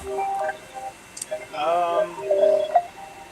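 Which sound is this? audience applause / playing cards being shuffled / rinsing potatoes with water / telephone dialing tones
telephone dialing tones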